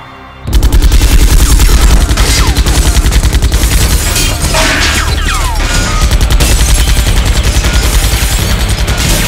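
A loud, sustained volley of rapid gunfire fills the scene in the Xenosaga Episode II boss fight, a dense machine-gun-like rattle that starts abruptly and continues steadily for several seconds, with no talk.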